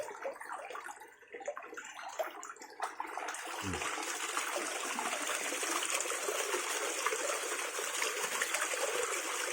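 Water flowing from a SunSun JTP 5800 pump under test, starting as light trickling and splashing, then turning into a steady, strong rushing flow that continues to the end.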